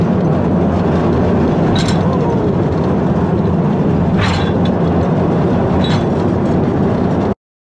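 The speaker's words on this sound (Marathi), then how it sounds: "ही ती ट्रेन आहे, या ट्रेनमधून ते लोक सॉल्ट घेऊन जायचे" An old train that once hauled salt at a historic European salt mine gives a loud, steady rumbling roll throughout, with a few brief higher squeals and clanks, then cuts off abruptly.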